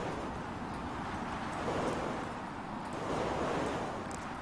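Steady roaring wind in the game The Howler, a broad continuous rush that swells slightly and then eases, loud and unbroken with no voices over it.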